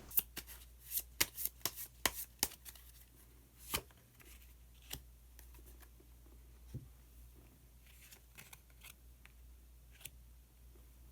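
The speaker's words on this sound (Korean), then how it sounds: "그러면은 마법사 카드를 한 장 더 뽑아보도록 하겠습니다." Tarot cards are shuffled and drawn on a table, a quiet run of crisp riffling snaps and soft slides that come in irregular bursts, close and alone, with no talking.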